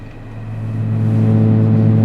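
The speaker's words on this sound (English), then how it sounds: "there's our engine sound" The engine of a Cessna T210N in flight, heard through an open cockpit window, a loud, steady droning hum with strong low tones that swells a little and then holds even.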